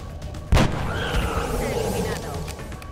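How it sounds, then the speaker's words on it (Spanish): A sniper rifle headshot in the game XCOM Enemy Within: one sharp, loud gunshot crack followed by a booming tail and ringing game sound effects. "Pero yo le hago el disparo a la cabeza porque puedo."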